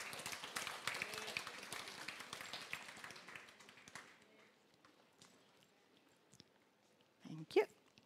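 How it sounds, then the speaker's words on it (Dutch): A church congregation applauds for Pastor Jesse with lively, dense clapping that thins and fades over about four seconds. Quiet room noise follows, then a short burst of sound near the end. "Dus laten wij applaus geven voor Pastor Jesse."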